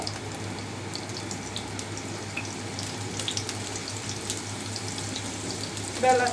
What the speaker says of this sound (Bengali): অল্প পরিমাণে তেল দিলাম কিছু পেঁয়াজ একটু ব্যবস্থা করে নিব